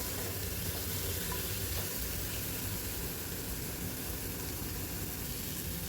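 Green chilli and garlic sizzle steadily in a hot pan, a dense continuous hiss of frying oil that stays close and loud throughout, with no voices.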